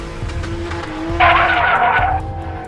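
A remote-control toy car drives with a steady motor whine, then breaks into a loud skid squeal for about a second before settling back to driving.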